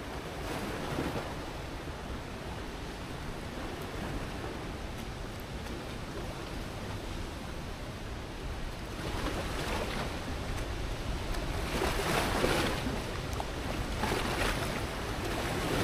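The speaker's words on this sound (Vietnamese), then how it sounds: "Dòng nước ở góc này nó chảy trắng xóa luôn này." Floodwater rushes white through rocky channels during a flood release at the Tri An hydroelectric dam in Dong Nai, a steady loud broadband roar with wind buffeting the microphone and brief surges, no talk.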